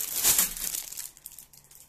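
A plastic bag of black square diamond-painting rhinestones crinkles close by, a bright rustling burst that fades into a few softer scattered crackles.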